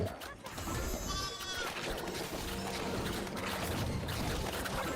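Sheep bleat in a video game, with several wavering calls close by amid busy game sounds and a speaking voice.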